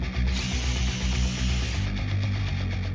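A steady mechanical whir of a drill pre-drilling a wooden raised garden bed's side support and beam, running continuously, with a dense low rumble and a gritty, grinding texture throughout.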